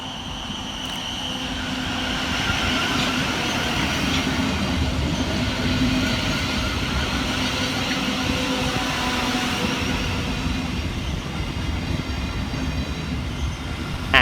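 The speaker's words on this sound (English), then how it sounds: "Next to arrive at the station is 700-104, working the 1039 Gavir Thameslink service from Horsham through to Peterborough." Class 700 Thameslink electric multiple unit arriving at a station, a steady rolling rumble with a sustained high whine and faint squealing tones running for the whole stretch at close range, with no talk.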